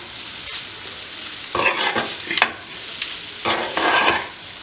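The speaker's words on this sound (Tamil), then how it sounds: "இன்னும் ஒரு 5 minutes நாங்கள் இதை வதக்கி எடுப்போம்." Green chillies sauté in hot oil for a dry marai pirattal, a steady close sizzle with bursts of louder scraping as the pan is stirred every second or so.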